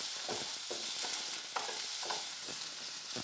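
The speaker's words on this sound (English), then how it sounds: "Saute this slightly" Two medium sliced onions sauté in a tablespoon of hot oil for a Goan okra stir fry, giving a steady close sizzle with soft scraping stirs recurring about every half second.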